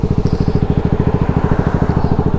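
Yamaha WR250R motorcycle engine running steadily while riding, a loud rapid pulsing thrum close to the microphone with constant even rhythm and no talk.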